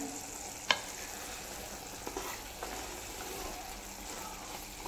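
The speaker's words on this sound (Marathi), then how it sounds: "आता हे सगळं व्यवस्थित मिक्स करूया।" Dried Bombay duck fish being stirred as it fries in a pan, a soft steady sizzle with a sharp scrape of the spatula early on and a few lighter clicks later, fairly quiet and close.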